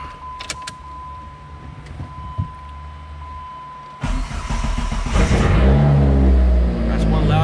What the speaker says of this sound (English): That's one loud exhaust.